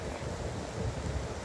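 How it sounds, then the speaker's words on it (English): Strong, rough wind gusts at the shore of the Sturgeon Bay Ship Canal in Wisconsin, a steady low rumble and buffeting with no other sounds. "Very windy and rough out here today."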